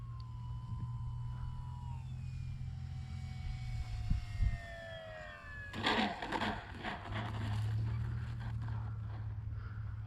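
An E-flite Commander MPD RC model airplane on a 4S setup flies on its maiden flight, its motor whining steadily in the distance with a rising and falling pitch as it passes, over a low outdoor hum.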